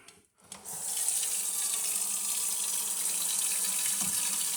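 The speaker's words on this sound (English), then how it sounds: "So we just rinse this pot out and make sure we get as much sugar as possible" Tap water runs strongly into a sink as a pot is rinsed out, a loud steady rushing hiss that starts after a brief pause and continues without talk.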